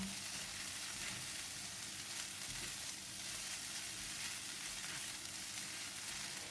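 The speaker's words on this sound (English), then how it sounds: "Increase the heat to high and give it a stir for 1 minute or until the rice and the other ingredients are well combined." Fried rice with Chinese sausage stir-fries in a pan over high heat, giving a constant dense sizzle with faint scraping stirs, moderately quiet and steady throughout.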